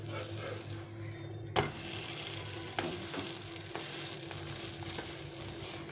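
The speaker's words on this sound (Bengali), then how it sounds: "আজকে আমি তোমাদের তেলে ভাজা দেখাচ্ছি" Naan puffs up while frying in refined oil, making a continuous even sizzle with a few sharp utensil knocks, close and without speech.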